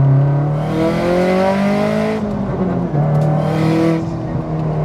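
A boosted car accelerating hard on a freeway, its engine droning in rising tones through one gear, dipping at a shift near halfway, then climbing again, loud and close from inside the cabin.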